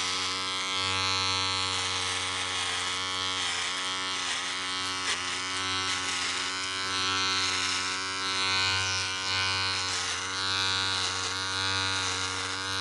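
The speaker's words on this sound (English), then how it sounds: "For the sake of this demonstration, I'm going to go 3 millimeter and we're going to see how it trims right here" A Panasonic multi-groomer electric trimmer set to 3 mm runs steadily while trimming a beard, giving a continuous close, loud buzzing drone that wavers slightly as it moves through the hair, with no speech.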